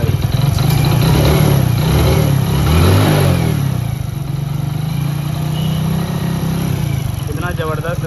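A motorcycle engine revs after a gear repair fixed a rattling rear sprocket, running loud and close with a steady throb and swelling revs, while someone talks over it.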